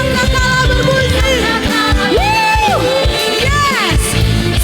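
Church congregation at a Sunday worship service clapping and cheering loudly, with rhythmic claps, shouts and whoops amid music and sung voices.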